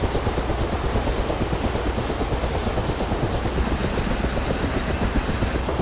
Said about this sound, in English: Both helicopters are spinning up, getting ready for takeoff.